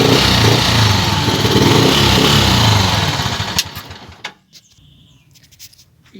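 A motorcycle's engine runs loud and close after its exhaust pipe is refitted and bolted back on. The engine drones steadily for about three seconds, then cuts off, leaving a few quieter clicks and knocks.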